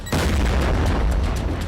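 A large explosion from a North Korean missile test, a deep sustained boom that sets in abruptly after a brief pause and rumbles on loudly with crackling texture for nearly two seconds.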